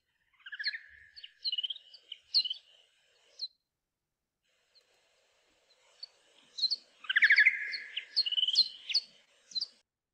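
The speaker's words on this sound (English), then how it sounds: "These are bats." Bats recorded in a cave in Romania give chirping, twittering calls in two bursts of quick, rapid notes separated by a quiet gap, clear and close.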